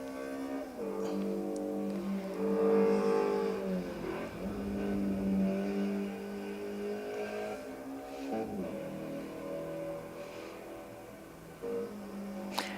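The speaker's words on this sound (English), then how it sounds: "Oh, listen to that engine. Or I should say the exhaust." Caterham car engine in the Assetto Corsa Evo racing game drones with a resonant, buzzy exhaust note, rising and falling through revs and gear changes, fairly quiet and steady with no talking.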